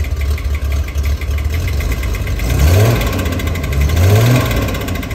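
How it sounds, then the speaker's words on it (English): Steady mid-pitched engine rumble from a 1965 Chevrolet Corvair Corsa coupe's rear-mounted, air-cooled 164 cubic inch flat six with four single-barrel carburetors, idling then briefly revving twice, heard up close with constant hum. "Power comes from a rear-mounted, air-cooled 164 cubic inch flat 6 with four single-barrel carburetors rated for 140 horsepower"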